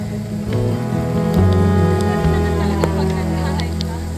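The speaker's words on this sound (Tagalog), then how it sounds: "biglang ulan" Sudden steady rain in the Philippines hisses over the whole stretch, with scattered drops tapping nearby and a low rumble underneath.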